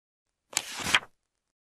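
A door sound effect in a children's bedtime Little Red Riding Hood story, meant as the wolf knocking at Grandma's house: one short, fairly loud burst of knocking and rattling, alone with no voice over it.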